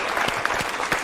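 A live audience claps together in a brief, dense burst of applause that fills the whole moment, close and fairly loud, with no one speaking over it.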